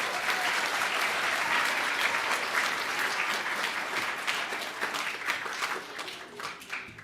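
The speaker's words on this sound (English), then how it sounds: "Let's give them all one more big round of applause." An audience in a room full of students applauds the Kid Governor's cabinet at an inauguration ceremony, with dense, steady clapping that carries on for about seven seconds and thins slightly toward the end.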